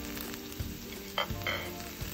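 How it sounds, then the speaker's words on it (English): Purslane, a leafy wild weed, sautéing in a pan over medium-low heat: a steady soft sizzle with a few light stirring scrapes and one brief utensil clink partway through. "Continue to saute this on medium to low heat."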